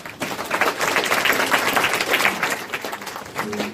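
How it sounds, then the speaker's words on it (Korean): An audience at a food and drug safety open forum in Seoul gives welcoming applause for the panelists, a dense, even wash of many hands clapping for several seconds, moderately distant, with a faint voice near the end. "소개해 주신 큰 환영의 박수 부탁드리고요."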